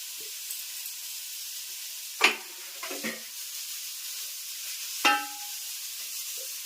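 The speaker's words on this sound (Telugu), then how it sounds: "నెయ్యిలో పచ్చివాసన పోయేలాగా వేపుకుందాం." Grated bottle gourd frying in ghee for a kheer, giving a steady soft sizzle with a few louder stirring scrapes from the pan, close by and with no voices.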